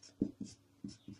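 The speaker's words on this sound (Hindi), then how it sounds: "गार्जियन ऐसे लिखेंगे यहाँ पे गार्जियन" A marker or chalk scratches out a few short strokes on a board in a classroom lesson, four quick, close scrapes in an uneven rhythm.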